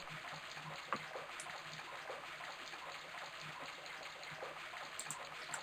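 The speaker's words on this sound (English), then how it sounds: "creaked, coughed, and spewed out a stream of rusty-colored water" A steady stream of rusty water gushes from an old cellar faucet in the video game Broken Sword, a continuous, fairly quiet hiss of flowing liquid with faint clicks and no voices over it.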